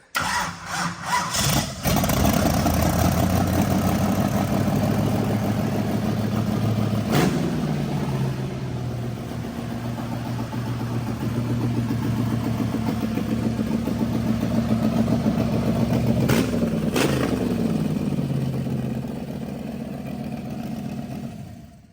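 A NASCAR race car engine fires up with a loud crank, then settles into a rough, heavy idle lasting about twenty seconds, close and steady, with a couple of brief blips of revs along the way.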